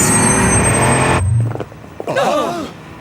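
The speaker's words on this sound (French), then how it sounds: "N'entendez-vous pas une voiture venir droit sur nous?" A car approaches with a loud, harmonic engine roar that cuts off after about a second, leaving near silence before a voice speaks in an animated scene.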